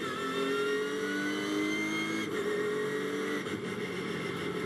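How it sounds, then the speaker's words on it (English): A Ginetta GT race car's engine, recorded onboard at the Snetterton circuit, drones loudly and holds steady with slight pitch shifts as it revs through gears, alone with no commentary. "This is back on board with Mangian."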